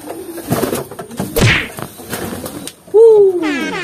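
Racing pigeons burst out of a loft, wings clapping sharply against the cooing and flutter of the flock, with a person talking and a short whistle nearby.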